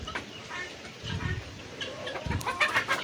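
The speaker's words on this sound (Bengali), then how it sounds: "এই যে মুরগি ডিম পারতাছে" A hen clucks nearby at a poultry farm while sitting to lay eggs, giving a few low throaty clucks in short bursts over a steady background hiss, with rain falling.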